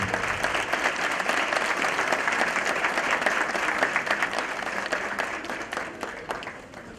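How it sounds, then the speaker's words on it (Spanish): An audience at the launch of the 2014 Mexican Red Cross fundraising collection in Hidalgo breaks into sustained, hearty applause for about seven seconds. The clapping is steady and full, then gradually thins and fades at the end. "Fuerte aplauso para el inicio de la colecta de la Cruz Roja Mexicana 2014."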